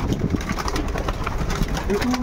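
Racing pigeons in a loft give soft, low coos amid a busy background of fluttering and shuffling, with a few clearer coos toward the end and faint speech mixed in.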